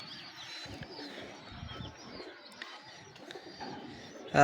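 Kamagar pigeons coo softly up close, low, murmuring calls repeating in short bursts against a quiet background.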